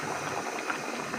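A pot of broken rice set on to boil gives a brief, steady rushing bubble, close and even throughout.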